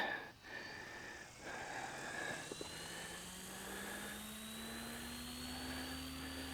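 A SAB Goblin Buddy 380 RC helicopter spools up on its maiden flight, a steady mechanical whine climbing smoothly in pitch over several seconds with a constant whirring drone, close and fairly loud, with no talking.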